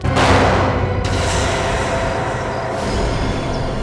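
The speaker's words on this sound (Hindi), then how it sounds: "गोली चलने की आवाज अंदर से आई।" Loud booming gunshot blasts echo inside an abandoned, ruined factory, with a heavy opening crack and further reverberant bangs trailing off.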